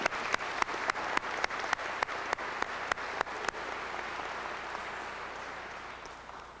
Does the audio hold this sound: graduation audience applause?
yes